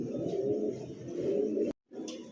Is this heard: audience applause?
no